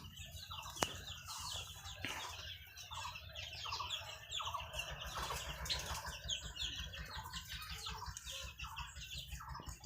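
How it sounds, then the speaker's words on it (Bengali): Desi chickens cluck and call continuously in an enclosed second-floor poultry room, with many birds overlapping at close range, wings flapping now and then, and a steady low hum underneath. "পাশাপাশি দেশি মুরগি বসানো আছে"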